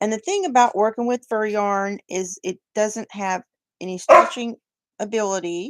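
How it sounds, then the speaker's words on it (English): A dog in a kitchen gives a single brief bark partway through, partly masked by a person talking continuously about crocheting with fur yarn. "That's my dog."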